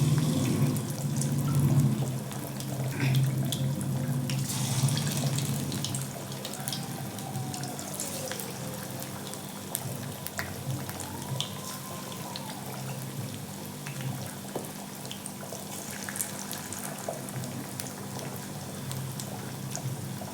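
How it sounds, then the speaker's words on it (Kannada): Kebabs deep-fry in hot oil with a steady, close, hissing sizzle that is loudest at the start and settles into a continuous bubbling crackle. "ಡೀಪ್ ಫ್ರೈ ಮಾಡ್ಕೊಳ್ಳೋಣ."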